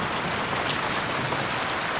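Rain falls steadily in a broad, even hiss, with soft spattering on surfaces and no break in the sound.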